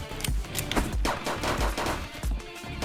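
SMG gunfire in the video game Shell Runner, several rapid bursts and single shots close by, sharp and loud against a busy background of game effects.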